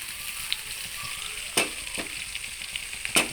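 Beef pieces sautéing in a hot pan for a dry fry, a steady soft sizzle with a few sharp clinks of a utensil against the pan.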